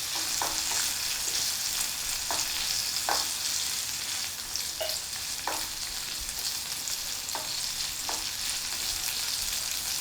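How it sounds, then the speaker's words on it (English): Bacon sizzles steadily in a pan with a constant dense crackling hiss and occasional sharper pops, close and unbroken throughout. "the bacon is sizzling away nicely"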